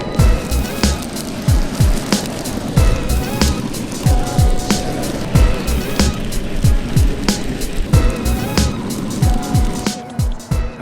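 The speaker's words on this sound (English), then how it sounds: "here's the maiden ride on the Ownboard" Ownboard W1 electric skateboard rolling on a road, its wheels rumbling continuously with a steady motor whine and repeated bumps and clacks over the surface, close and loud.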